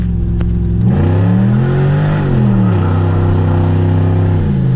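Pontiac Grand Prix GXP accelerating hard in first gear on a wet road, engine note climbing loudly from a rumble into a rising whine, dipping briefly at a shift or wheelspin, then pulling up again close to the listener.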